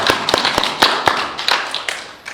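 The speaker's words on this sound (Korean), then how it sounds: "우리 한번 일어나셔서 박수 한번 치도록 하겠습니다" A church congregation claps in welcome for a visiting pastor during Sunday worship, a loose run of sharp, separate claps spread across the moment rather than dense applause.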